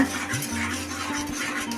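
A utensil scrapes around a pan as papaya halwa with cornflour is stirred, giving a short run of soft, continuous scraping over a low steady hum.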